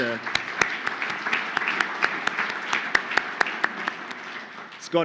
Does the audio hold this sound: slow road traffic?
no